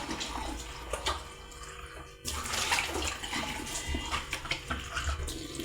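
Tap water rinses a dirty stainless steel kitchen sink during cleaning, a steady close splashing hiss that breaks off briefly and then resumes at a fuller level.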